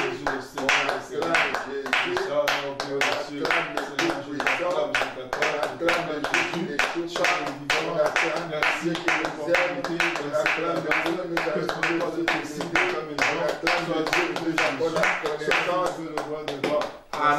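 A church congregation claps together in a steady, fast rhythm for Jesus during a worship service, the dense clapping loud and continuous, with voices singing and speaking throughout.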